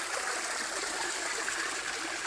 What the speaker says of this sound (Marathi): हा तिकडून त्या साईडून बघा थोडंसं पाणी येतं आहे तिथून